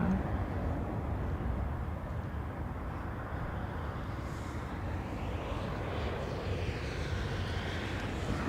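Airliner passing at Dublin Airport, a steady distant jet roar that swells faintly and holds for several seconds with no voices.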